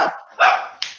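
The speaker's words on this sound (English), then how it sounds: "I'm hearing barking." A dog barks close by, a few quick sharp yaps within about a second.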